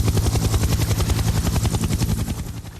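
Helicopter flying over a cruise ship, its rotor thumping in a steady rapid rhythm, loud and continuous throughout with a broad turbine roar underneath.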